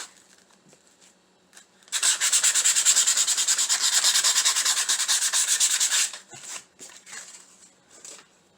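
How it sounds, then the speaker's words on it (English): Sandpaper is rubbed quickly back and forth on a small Walmart craft piece, a loud, even rasping scrape lasting about four seconds, followed by a few short, lighter strokes. "just take some sandpaper and sand it down real easy"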